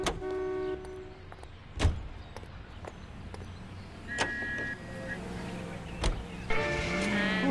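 Car driving in the video game L.A. Noire, a steady engine and road drone running throughout with a few sharp clunks and brief tonal game chimes, while people talk over it.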